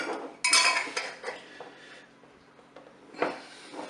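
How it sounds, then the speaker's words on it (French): Metal lids are screwed tightly onto hot jars of pear jam in a home kitchen. Close, clattering clinks and scraping twists come in several short bursts with quieter gaps between them, and no speech. "Je vais mettre le couvercle, bien sûr, sur les pots de confiture."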